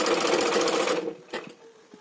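A sewing machine stitches a lined blouse in a quick burst of rapid needle clatter for about a second, then stops, leaving a few faint handling clicks.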